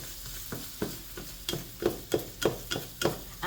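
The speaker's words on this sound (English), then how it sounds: "now let's stir" A spoon works through roasted red pepper pasta sauce in a pan, giving a quiet, steady rhythm of soft scraping strokes roughly twice a second with a faint sizzle beneath.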